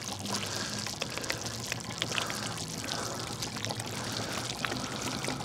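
Liquid pours steadily through an Eco-Loop screw-on funnel, giving a faint, continuous trickling and splashing stream with no voices.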